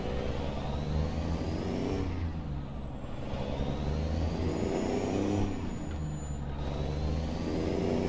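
A Peterbilt 359 truck engine in American Truck Simulator revs up and drops back through several gear changes, a loud, steady diesel drone with rising and falling whine, heard close with no talk.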